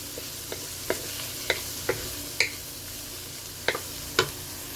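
Sautéing in a pan before mung beans go in, a steady sizzle broken by repeated sharp scrapes and clinks of a spatula stirring, close and with no talking.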